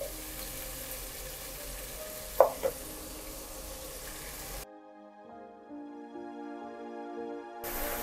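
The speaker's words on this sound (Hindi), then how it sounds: "ऑयल में हमने प्याज फ्राई किया था तो उसी ऑयल में हम ये डाल देंगे अदरक लहसुन" Ginger, garlic and green chili paste fries in oil that previously fried onions, a soft steady sizzle with a couple of stirring knocks before it cuts to quieter background tones.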